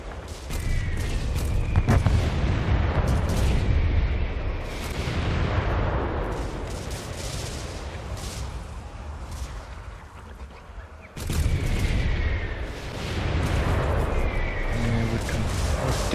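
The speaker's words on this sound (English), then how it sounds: "Nasty mortars." Mortar barrages in the Guild Wars 2 PC game, a long stretch of dense booming artillery fire and rumbling blasts, loud and continuous with a sharp renewed volley near the end.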